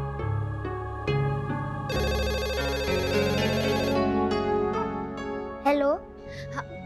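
After the home number is dialed, a telephone rings in a TV drama scene, layered with a musical score and electronic tones, and a voice answers near the end.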